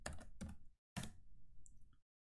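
Typing on a computer keyboard while entering a command in TempleOS: a quick cluster of close key clicks, a brief pause, then another burst of keystrokes, quiet and alone.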